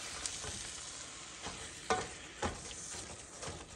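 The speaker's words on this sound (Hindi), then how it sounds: "चिकन का कीमा भूनते भूनते ही गल जाता है, इसमें ज़्यादा टाइम नहीं लगता, बस अच्छी तरह आप भून लें" Chicken mince frying and being stirred in a pan for samosa rolls, with a steady close sizzle and a few scraping stirs, no talk.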